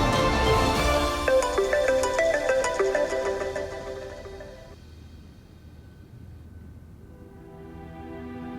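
A phone ringtone plays as a bright, tuneful repeating pattern that fills the first half, then drops off and leaves a quieter, low background.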